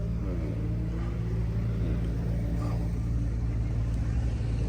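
A loud car engine idling nearby at a Lamborghini Temerario gathering, a steady deep rumbling drone with harmonic hum, holding constant throughout with a slight wavering roar and no speech.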